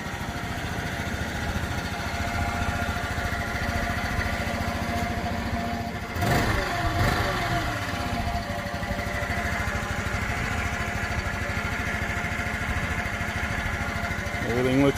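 A 1984 Honda CH125 Elite 125 scooter idling: a steady, close small-engine putter runs throughout, briefly rising around the middle as the throttle is blipped, then settling back to an even idle.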